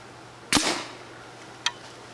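A custom Nerf Titan foam rocket launched by compressed air at 70 PSI gives one sharp, loud pop-whoosh that trails off over a fraction of a second, followed about a second later by a brief, fainter click.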